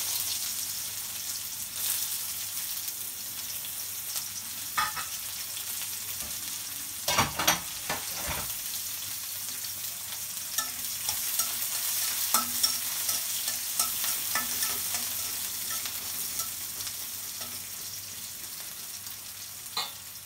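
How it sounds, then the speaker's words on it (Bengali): Chopped onion frying in a pan while a chicken and fish curry is being cooked, giving a steady low sizzle with repeated stirring scrapes and clinks of a utensil against the pan, close and moderately quiet throughout. "পেঁয়াজটা একটু ভাজা ভাজা হলো"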